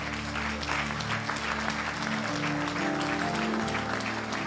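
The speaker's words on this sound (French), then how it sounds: "On acclame pour l'Esprit de Dieu." Sustained applause fills a church hall during a prophetic worship service, steady and dense throughout with a low organ-like musical tone held underneath.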